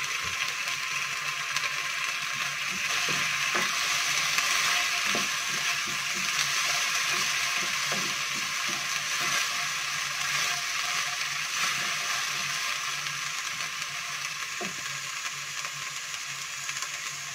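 Ginger, garlic and onion paste frying in oil with browned onions: a steady, loud hiss of sizzling throughout, with scattered light clicks and taps of utensils and no voices.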